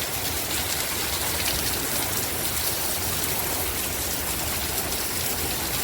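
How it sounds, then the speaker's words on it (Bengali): Heavy rain pours outdoors in Saudi Arabia, an unbroken, loud hiss of water striking surfaces with no pauses or voices. "অনেক বৃষ্টি হচ্ছে দেখছেন"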